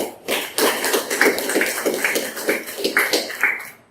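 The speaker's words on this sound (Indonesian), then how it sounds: "Kita beri aplaus dulu kepada kelompok 2" A classroom group claps for a presenting group during a teaching assessment, a close burst of scattered applause lasting a few seconds with no talking.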